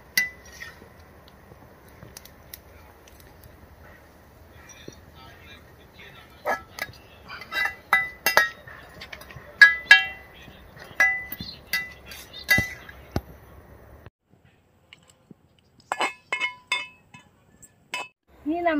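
Fried coconut pieces for kappa biriyani are tipped from a pan into another vessel, giving a run of sharp metallic clinks and scrapes in a quiet kitchen, clustered in the middle and again near the end.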